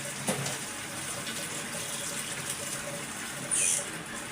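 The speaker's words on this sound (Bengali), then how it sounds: "এরকম ডালা করে নিয়ে ধুয়ে নিই" Water runs steadily over taro being washed in a basket, a moderately quiet continuous splashing flow with a brief louder gush near the end.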